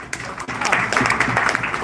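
Audience at a business meeting clapping loudly together, a dense, sustained wash of applause that swells in after a brief pause and holds steady for a couple of seconds.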